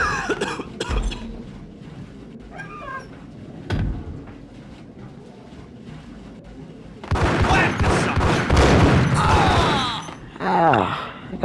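Shotgun fire in the Max Payne video game: sharp booming blasts, a couple early and a dense loud burst of shots later, mixed with game effects and a faint voice.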